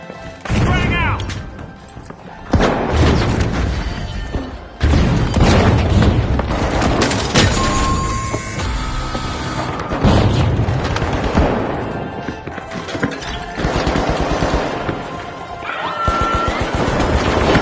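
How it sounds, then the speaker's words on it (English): Grenade blasts and crashing impacts in The Finals, an arena shooter, come loud and chaotic amid constant gunfire and action, with an excited commentator's voice running over the din. "Frag grenade out!"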